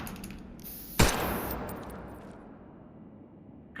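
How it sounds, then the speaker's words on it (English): A single sharp gunshot rings out with a metallic ricochet off the edge of a shipping container in the Wardogs game, its echo ringing and fading over a few seconds. "Fire at the edge of the container and watch the bullet rebound."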